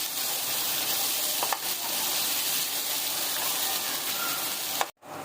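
Finely chopped onions sizzle and fry in hot oil while being stirred until lightly golden, a steady dense crackle with a brief break near the end, no voices heard.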